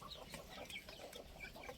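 Hens about three to four years old cluck softly and steadily in a coop, with faint scattered bird calls over a constant low background hiss.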